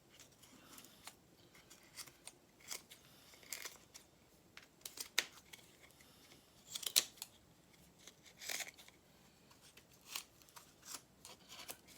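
Quiet, close snips of a sharpened pair of scissors struggling to cut through tough aramid fibre, a dozen or so irregular crisp cuts scattered across the stretch with near silence between them.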